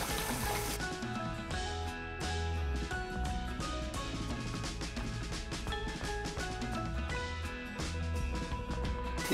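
Chicken curry being stirred in a pan with the rest of the roasted ground coconut masala, a dense close sizzle broken by repeated scraping strokes of a spoon across the pan.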